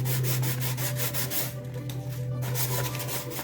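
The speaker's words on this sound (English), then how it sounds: "I'm able to just use this piece of 320 to do our distressing" A wooden caddy gets rubbed with a small piece of 320-grit sandpaper to distress waxed paint, a quick back-and-forth scratching that repeats steadily at close range over a low hum, with a brief pause partway through.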